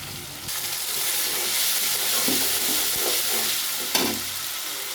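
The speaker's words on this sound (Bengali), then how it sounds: "পেঁয়াজটা হালকা ভাজা হয়ে গেছে, এখন আমি আদা রসুন বাটা দিয়ে দেবো।" Ginger garlic paste hits a pan of lightly fried onions with a loud, continuous sizzle and hiss, joined by occasional stirring scrapes and a brief knock about four seconds in.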